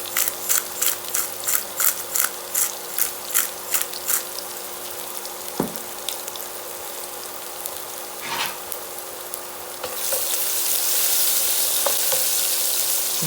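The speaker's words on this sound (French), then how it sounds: "نقلي البصله ديالي" Onion frying in a pan as seasoning is stirred in, a steady close sizzle that swells louder near the end, with a run of rhythmic scraping or cutting taps early on and a couple of sharp knocks.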